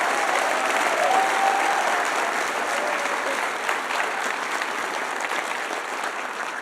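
Applause for the 2017-18 cohort at a fall 2018 convocation, a sustained roar of a large audience clapping that holds steady and eases slightly toward the end, with faint voices mixed in.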